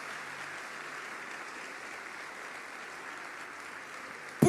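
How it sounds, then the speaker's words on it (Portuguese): A church congregation applauds during a sermon, a faint, steady, far-off wash of clapping that holds evenly and ends with a sudden louder bump. "pode aplaudir, se for Jesus, mas aplaude Jesus"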